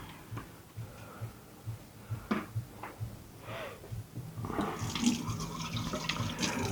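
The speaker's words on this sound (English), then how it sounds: "plop that into the water" A salmon fillet placed skin side down into water in a pan, with faint splashing and light watery movement that swells into a louder liquid wash toward the end.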